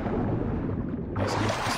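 Thunderstorm at sea in Assassin's Creed Odyssey, a dense low rumble of wind, rain and churning water with a sharper rush breaking in near the end.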